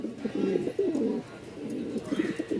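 Pigeons coo in a loft of Pakistani toy Lahori and similar breeds, a steady low murmuring with overlapping calls that swell and ease across the moment, fairly close and unaccompanied by speech.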